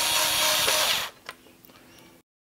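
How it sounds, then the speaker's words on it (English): Screws being driven into the circuit board of a Watersnake DR model electric outboard motor: a steady close whir for about a second, then a few faint clicking ratchet-like ticks before the sound cuts off. "Do your three screws up."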